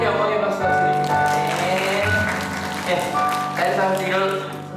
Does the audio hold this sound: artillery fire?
no